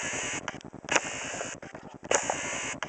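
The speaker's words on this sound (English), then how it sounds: "Sorry for the noise of the focus" A camera's autofocus motor whirs and buzzes in short, uneven bursts while hunting for focus on an amplifier under repair, faint and close with mechanical clicks and no talking.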